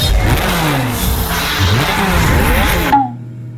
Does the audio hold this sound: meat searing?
no